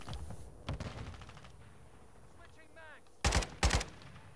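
Two sharp, loud gunshots from long-range sniping in the video game Modern Warfare 2 crack out back to back near the end, after a quieter stretch of game audio with scattered earlier shot-like bursts.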